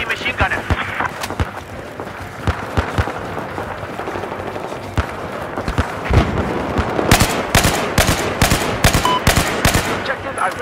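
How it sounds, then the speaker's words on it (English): Rapid automatic gunfire from an enemy machine gunner in the Battlefield 4 video game, with sharp bursts and repeated shots that grow denser toward the end amid battlefield noise and game radio chatter. "There appears to be an enemy machine gunner."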